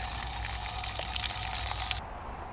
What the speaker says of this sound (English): You can see it's totally busted and just pouring out water.